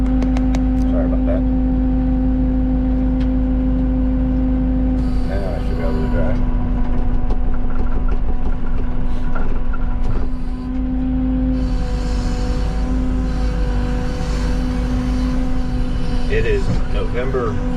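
A tracked machine clearing a couple of acres of woods keeps up a steady, loud engine drone with a strong low hum and shifting mechanical clatter as it sets off, with someone talking over it.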